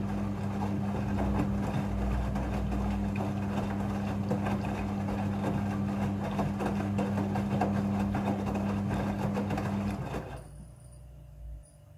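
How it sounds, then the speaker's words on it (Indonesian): Midea front-loading washing machine running its rinse cycle, a steady motor hum with a faint whir and sloshing water throughout, then dropping to a quieter low drone near the end. "Pada proses pembilasan dengan air, mesin cuci akan mengatur jumlah kebutuhan air secara otomatis."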